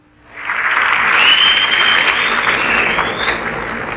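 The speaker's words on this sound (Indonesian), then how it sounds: "Tepuk tangan untuk Saudara Kamarudin bin Ahmad" Sustained applause from an audience at a Minangkabau stage performance, greeting a guest from Seremban, Malaysia; the clapping rises quickly and holds steady and dense throughout, with no talk over it.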